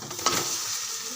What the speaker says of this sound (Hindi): चिकन को अच्छे से फ्राई करेंगे